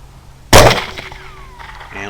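A single loud, sharp rifle shot from a Grendel SST fired at hogs during a hunt, a sudden close crack followed by a decaying echo and ringing tone, with faint background noise.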